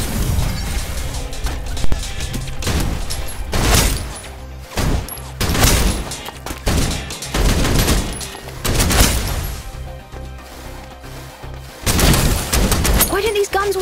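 Gunfire in Snowbreak: Containment Zone, loud repeated bursts and heavy impact crashes in quick volleys, separated by short pauses, with voices speaking over the action.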